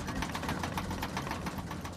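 Airliner jet engines pushed to full thrust roar continuously and loudly in a dense, broadband rush with a faint rhythmic pulsing throughout.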